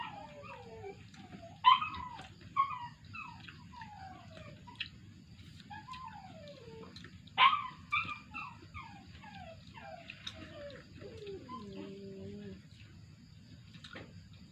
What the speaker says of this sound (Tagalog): Ingay-ingay yung aming aso.